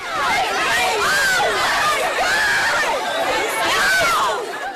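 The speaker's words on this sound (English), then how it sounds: "Look at this crush of shoppers in a Chattanooga Victoria's Secret pink store." A dense Black Friday crowd of shoppers packs into a Victoria's Secret Pink store in Chattanooga, a loud, continuous roar of overlapping voices, shouts and excited chatter.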